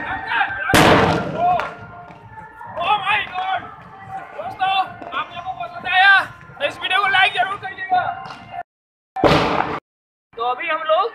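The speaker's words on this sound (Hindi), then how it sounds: "और एक मैं ये भी सुतली बॉम्ब फोड़ूंगा।" A sutli bomb firecracker bursts once with a sharp, loud blast at a Diwali celebration, then a second short loud bang follows later, with people chattering and talking close by throughout.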